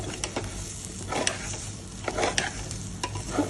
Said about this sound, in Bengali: ভালো করে নাড়াতে হবে, একটু হিট কমিয়ে কমিয়ে, হিট বাড়িয়ে হিট কমিয়ে, যেন চালটা পুড়ে না যায়